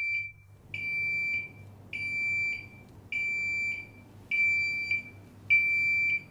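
A SATO CL4NX Plus label printer alarm beeps in a regular pattern, short high-pitched pulses repeating roughly every second over a low machine hum.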